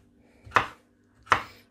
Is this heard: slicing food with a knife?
yes